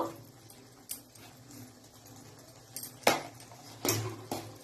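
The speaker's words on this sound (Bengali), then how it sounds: "এবার অনবরত নেড়ে যেতে হবে যাতে নিচে না লেগে যায়" A spatula scrapes and knocks against a pan while spinach masala for palong paneer is stirred, a few sharp clacks spaced over a quiet background.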